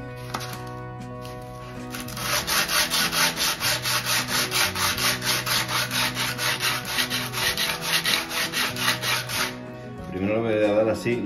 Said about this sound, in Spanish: Empezaremos por un papel de lija de grano 80